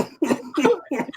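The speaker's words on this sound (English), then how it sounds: "I have a bit of a cough, a little bit of a sore throat, and that just set it off." A person coughs three times in quick succession, short harsh bursts close to the mic, with no other sound.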